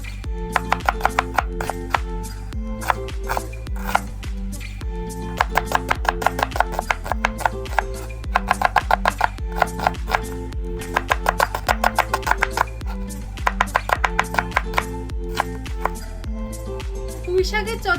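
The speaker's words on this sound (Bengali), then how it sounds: "পেঁয়াজ কেটে নিচ্ছি" Knife chopping onions on a board in a village kitchen, quick bursts of rhythmic taps with short pauses between, close and clear under steady background music.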